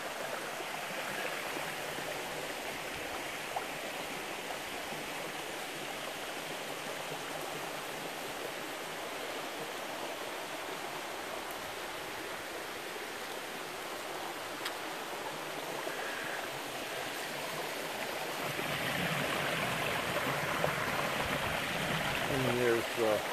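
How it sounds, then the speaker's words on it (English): Steady rushing water of a stream and waterfall along the La Cloche Silhouette Trail in Killarney Provincial Park, a continuous broadband wash that swells slightly louder toward the end, with no voices. "And there's the waterfall."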